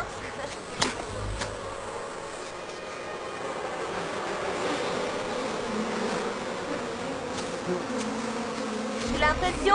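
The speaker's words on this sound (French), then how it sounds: "Il y a une abeille qui ne dort pas?" Bees at a hive buzz in a steady, dense drone that holds through the whole stretch, with no talk over it and a few faint knocks and rustles.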